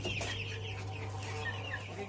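Pelung chickens clucking in a coop in a small backyard space, a few soft close clucks and chirps over a steady low hum, fairly quiet.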